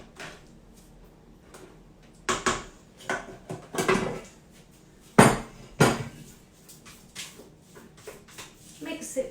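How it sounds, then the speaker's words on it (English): Utensil clinks and scrapes against a bowl while chocolate marquesa mixture is stirred, in several irregular close clattering bursts. "Give it a quick mix."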